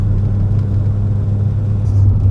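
A Peugeot 205 GTI 1.6 with 115 hp on the move gives a continuous low engine drone and road rumble inside the car, steady and loud, with no voices.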